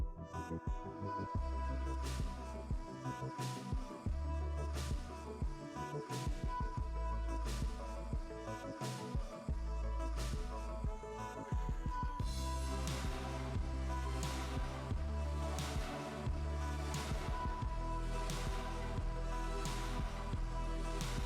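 An electric hair clipper buzzes steadily while cutting a man's hair with clipper-over-comb, a constant low hum with repeated brief pulses as the comb lifts sections, quiet and close with no talking.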